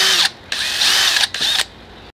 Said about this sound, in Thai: สว่านแบบตัวนี้ประหยัดแบตแล้วก็ใช้งานได้ยาวนานมาก